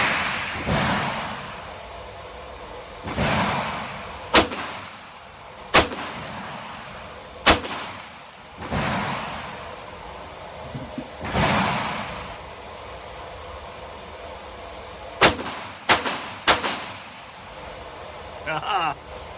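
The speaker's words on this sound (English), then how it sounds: "Let's start at 20 yards, 3 shots." Sharp, sparse .22 rifle shots crack out one at a time at an outdoor range, fired at 20 yards, separated by pauses filled with muffled talking and handling noise.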